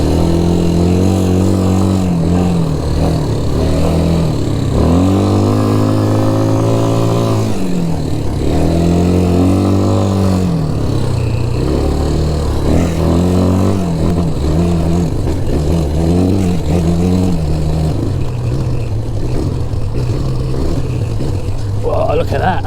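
All-terrain vehicle in rugged hill country revving hard as its wheels spin in dirt, a loud, close engine rising and falling in repeated surges, with people talking over it throughout.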